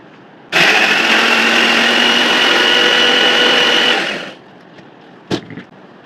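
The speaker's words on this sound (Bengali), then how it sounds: "আরেক চামচও দিয়ে দিলাম ভালো করে ব্লেন্ড করে নেবো" A kitchen blender whirs loudly and steadily for about three and a half seconds while blending ripe bael (wood apple) sherbet with sugar and yogurt, then winds down, followed by a brief knock.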